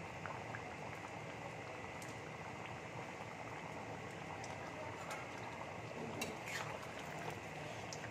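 Soybean and chana dal curry boils steadily in a pot, a dense, continuous bubbling hiss with small popping bursts, close and even throughout with no voices.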